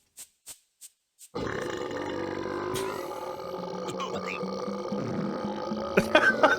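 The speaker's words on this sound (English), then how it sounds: "There's a fart noise in that one." Four quick clicks precede a long, loud, rumbling fart-like blast from The Neverhood's claymation game soundtrack, rasping and wet as it stretches on for several seconds.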